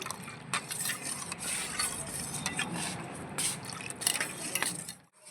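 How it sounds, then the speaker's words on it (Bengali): A spoon stirs a yogurt and milk mixture in a bowl for sweet homemade yogurt, a steady wet scraping with light clinks against the bowl, close and continuous, then fading out at the end. "দইটা সুন্দর করে যে গুলিয়ে নিলাম"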